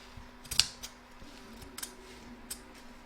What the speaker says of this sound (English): we're going to trim off any bulk from this side of the stitch line and turn that round